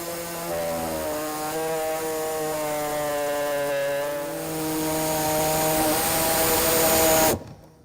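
Power tool cutting a 1.5 by 1.5 inch hole in the plastic rear bumper of a 2015 Mini Cooper Countryman, a steady high whine that climbs in pitch while cutting and stops abruptly near the end, close and loud.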